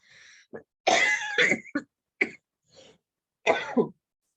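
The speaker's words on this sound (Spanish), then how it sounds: "ustedes esa tos de veras que lo mata a uno" A few harsh, close coughs in quick bursts with throat clearing between, separated by short pauses of silence.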